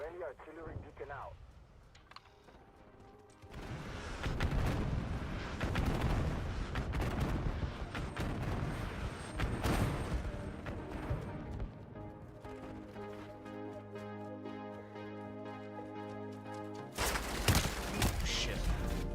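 Artillery strikes in the video game MechWarrior 4, heavy booming blasts and rumbling gunfire layered densely over a droning mech hum, with voices speaking over the barrage.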